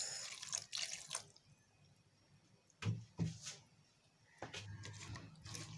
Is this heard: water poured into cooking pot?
yes